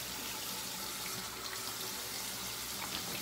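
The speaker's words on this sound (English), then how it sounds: "And now, as I'm rinsing it off, it rinses straight off." Water runs steadily from a tap while shaving soap lather, LNHC Amber & Tobacco, is rinsed off a face, a continuous close splashing flow with no break.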